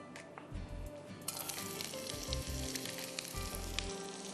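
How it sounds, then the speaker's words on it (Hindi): Chopped onions sizzle and crackle in hot oil in a pan, a continuous close frying hiss with occasional louder bursts and low clunks as they are stirred. "यहाँ भी तेल गरम हो चुका है, इसमें हम डालते हैं प्याज"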